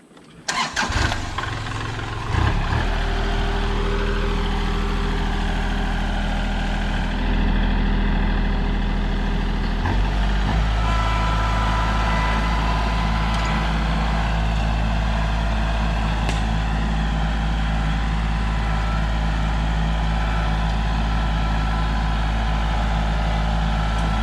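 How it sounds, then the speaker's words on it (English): A loud tractor diesel engine cranks and catches, then runs steadily at a heavy idle with a deep, constant rumble that fills the whole clip. "it'll be loud with this tractor"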